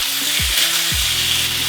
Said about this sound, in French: La viande qui est marinée, on la met dans le wok.